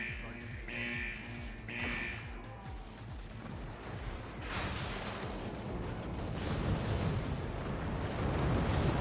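Cannons fire in the video game Forts, a few short tonal beeps giving way to rumbling, crashing blasts that build into a loud, continuous roar of artillery.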